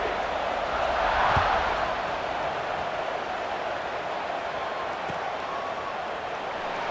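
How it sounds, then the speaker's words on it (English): A college football stadium crowd buzzes with a steady, broad roar of many voices after a score, loud and continuous throughout. "this crowd is buzzing after that last score"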